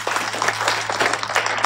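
Students in a classroom applaud, a brief burst of dense, close hand clapping from a small group, steady and loud for under two seconds with no talking over it.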